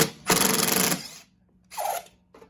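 Power driver with a Torx bit turning a bolt while a 7/16 wrench holds the nut, during paddle replacement on a 21-inch Toro snow blower; a close, loud motor whir runs for under a second, followed by two shorter bursts.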